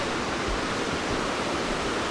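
The Baker River rushes below the Baker Suspension Bridge on the Baker Lake Trail, a dense, even roar of flowing water filling the whole moment without pauses or voices.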